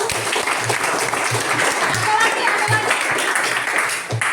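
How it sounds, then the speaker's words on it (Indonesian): A school classroom of students clapping together for a classmate, a fairly loud, continuous patter of hands with some rhythmic beats and voices mixed in. "Kita tepuk tangan untuk dia."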